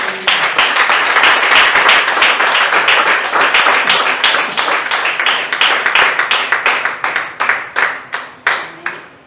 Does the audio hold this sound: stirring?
no